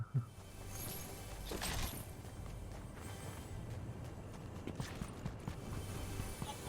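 Running footsteps of an approaching player in Fortnite, a steady rapid patter of steps over a continuous game background, moderately loud, no talk.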